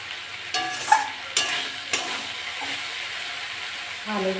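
Kulpi greens fry gently in a pan over a low gas flame. A soft, steady sizzle sits under a few sharp spatula knocks and scrapes, and a faint voice is heard near the end.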